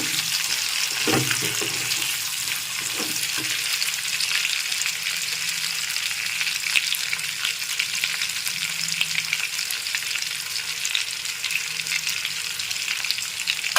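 Chopped capsicum and onion frying in a pan, a steady bright sizzle running throughout, with a few scraping stirs near the start and no talking.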